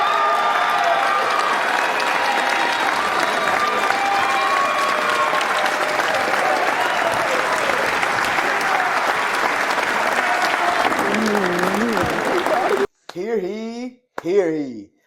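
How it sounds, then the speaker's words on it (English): A crowd applauds Travis Hunter as the 2024 Heisman winner: dense, loud, sustained clapping for about thirteen seconds, then it stops abruptly and a voice speaks alone. "let's go ahead and give a round of applause to it"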